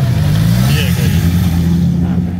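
A car drives along a street in DHA, Karachi, its engine a loud, steady hum with a rising note, heard close and under someone talking.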